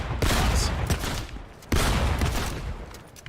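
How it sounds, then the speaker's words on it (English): Rapid bursts of video game gunfire in two loud clustered volleys, sharp repeated shots close and dense, with no talking over them. "There's a lot of shooting."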